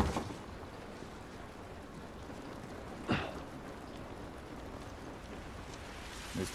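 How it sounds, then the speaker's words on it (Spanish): Steady rain falls in the video game The Last of Us, a soft even hiss broken by a single sharper splash midway. "Esta lluvia no nos ayudará."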